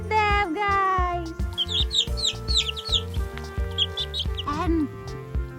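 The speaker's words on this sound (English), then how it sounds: "And on the farm, from the egg, hatches a little chick." Chicks and hens on a farm peep and cluck in a busy, close chorus of quick high chirps, with a steady rhythmic musical backing underneath and a brief voice near the end.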